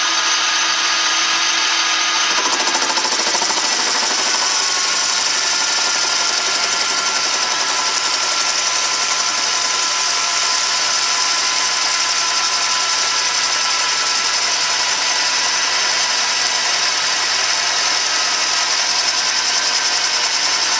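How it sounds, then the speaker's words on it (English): A machine motor grinds steadily through a rough cut on a PTO part during repair, a loud, continuous broadband roar that surges at the start and then stays constant throughout, with no voices. "Guess you can really hear that motor working, huh?"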